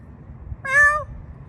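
A single feral cat gives one short, clear meow, fairly close, standing out alone against a quiet outdoor hum.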